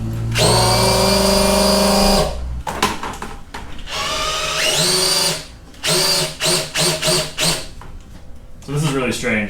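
A small universal siphon pump drawing fuel from the tank of a barn-find vehicle gives a steady, loud motorized whine with a low hum for about two and a half seconds, then stops as someone talks.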